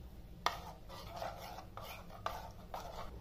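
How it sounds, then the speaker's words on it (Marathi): Semolina stirred into room-temperature milk in a bowl for makhandi halwa, a quiet steady scraping and swishing with a couple of sharper taps against the bowl, close and faint, with no talking. "याला आता मिक्स करून घेऊ।"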